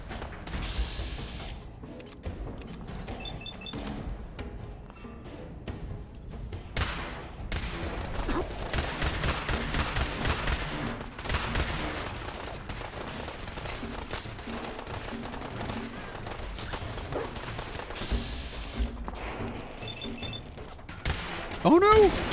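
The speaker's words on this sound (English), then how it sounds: "There are so many lasers, I literally can't even see who's shooting what." Laser weapons fire in a chaotic Fallout 4 firefight, rapid overlapping zaps and bursts with thuds and impacts that keep going almost throughout, while a player talks over the action.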